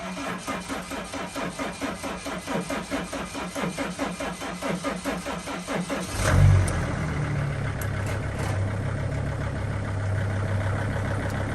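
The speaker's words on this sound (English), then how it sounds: "we're gonna go ahead and start this vehicle up" A 2004 Mercedes Sprinter van's diesel engine with glow plug faults: a steady rhythmic cranking chug for about six seconds, then it catches with a surge and settles into a continuous close idle.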